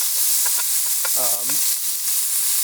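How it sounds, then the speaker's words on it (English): Moose burgers fry with a bright, steady sizzle up close, broken by a brief squeaky tone and a few soft knocks. "So today we're cooking up moose burgers."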